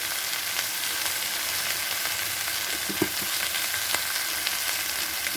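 Bottle gourd peels fry in a pan with salt, turmeric, chilli powder and a pinch of sugar, giving a steady, even sizzle with a few soft stirring knocks, and no one talks.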